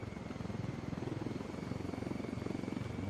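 Helicopter flying in the video game Ghost Recon Wildlands, a steady rapid rotor thump with a constant engine drone, loud and continuous throughout.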